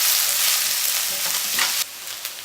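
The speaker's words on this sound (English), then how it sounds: "I'm going to add some garlic. There are 3 cloves of garlic, and cook them together for half more minute" Three garlic cloves frying with onions in a pan for a pasta sauce, a loud, dense hiss of sizzling that drops abruptly to a quieter crackle near the end.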